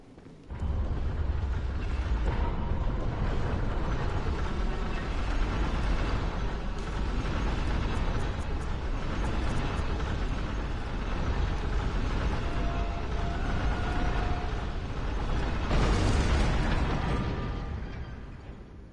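Church Cannon from Bloodborne booming in a long, sustained roar of explosive rumble, steady and loud throughout with a swelling burst near the end, no voices.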